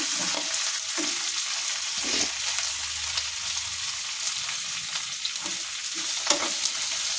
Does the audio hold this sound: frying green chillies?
yes